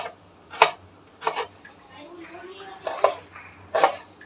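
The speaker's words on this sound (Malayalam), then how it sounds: "ഞാനിവിടെ ഉള്ളി അരിയുമ്പോൾ അവിടെ ഓരോരുത്തർക്ക് കണ്ണിൽ എരിവ്." Onions being sliced with a knife in a home kitchen, four sharp separate chops spaced about a second apart, close and crisp, with faint voice sounds between them.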